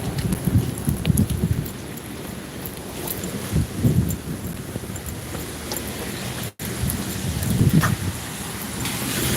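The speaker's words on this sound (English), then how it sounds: "It's still raining, as you can see." Steady rain patters and hisses close by, with gusty low rumbles from wind buffeting the microphone and a brief dropout partway through.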